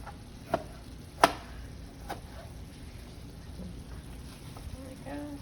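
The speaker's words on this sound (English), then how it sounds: "And then the end you just chop." A knife chops a tomato on a cutting board, giving a few sharp separate chops, close and fairly loud, with quiet kitchen noise between them.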